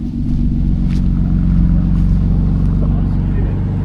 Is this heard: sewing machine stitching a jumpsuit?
no